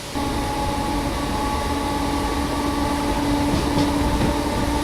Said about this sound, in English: there's actually a train in now, but that's going the other way